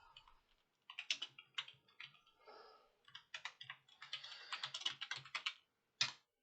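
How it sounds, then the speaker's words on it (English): Steady typing on a computer keyboard, with bursts of close, crisp key clicks in uneven rhythm and brief pauses between runs, ending on a single sharp tap. "I'm gonna keep typing these"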